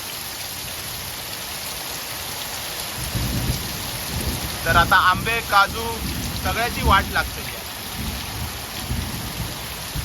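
Steady heavy rain hisses throughout, with low rumbling thunder rolling underneath, and a voice speaks briefly partway through.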